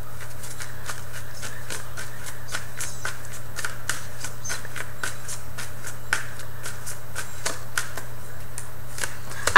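Tarot cards being shuffled by hand, a dense run of quick papery riffling clicks close up, with a card popping out of the deck amid the steady flutter and a faint hum underneath.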